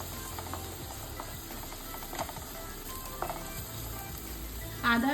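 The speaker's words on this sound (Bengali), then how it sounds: "আদা আর রসুনটা দিয়েও আমি একটু ফ্রাই করে নিয়েছি" Ginger and garlic paste sizzles in a pan of oil while chicken do pyaza is being made. The frying hiss is close and steady, with scraping stirs and a few clicks, and there is a brief louder knock near the end.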